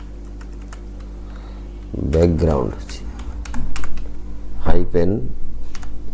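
Computer keyboard typing as code is entered for a web design page, a run of quick key clicks with a voice talking over it in a quiet room.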